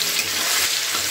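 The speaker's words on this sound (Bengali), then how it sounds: "পেঁয়াজটাকে একটু ভালো করে নাড়াচাড়া করে নিচ্ছি" Chopped onions fry with cumin seeds in a hot wok of oil for a spicy dried loitta fish curry, a steady, close, dense sizzle that holds evenly throughout with no voices.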